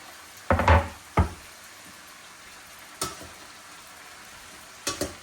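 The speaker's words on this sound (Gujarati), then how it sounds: "અને આ બધું છે ને એકદમ ફાસ્ટ ગેસ ઉપર કૂક કરવાનું." Onion and cabbage stir-frying for Chinese noodles on a high gas flame, a soft steady sizzle broken by several sharp clacks of a utensil against the pan at irregular intervals.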